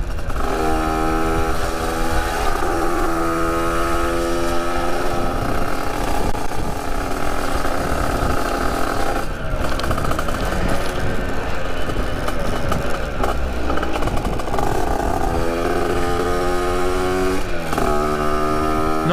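A motorcycle rides slowly along a road, its engine note steady and loud throughout with harmonic drone shifting slightly as it moves, no talk over it.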